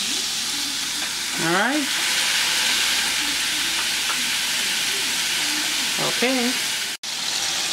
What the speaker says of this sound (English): where I can even cook the other 4 burgers on one side and then flip it over